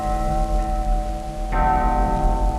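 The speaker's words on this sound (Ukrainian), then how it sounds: "І вдарили дзвони." Church bells ring in a steady, sustained peal with rich lingering tones, growing fuller and louder midway as more bells join, with no voices present.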